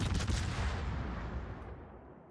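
Heavy naval guns of a warship firing in World of Warships, a single loud blast at the start whose low rumble rolls on and slowly fades over a couple of seconds.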